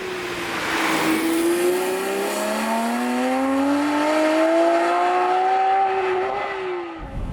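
Porsche 991 Speedster with the 4-litre flat-six GT3 engine revving steadily around 5,000 rpm, a loud continuous engine note rising gradually in pitch over several seconds before easing off near the end.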